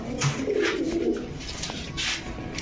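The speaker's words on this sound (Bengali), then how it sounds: "দুইটাই নর কবুতর।" Male pigeons of breeds such as Damascene, Budapest and racer, offered for sale at a market, coo in low, soft, rolling bursts close by, amid faint background clatter and noise.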